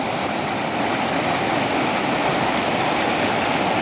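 The Salgado river in Icó, Ceará, runs high toward the Castanhão reservoir, a constant loud rushing roar of flowing water, close and unbroken, with no voices over it.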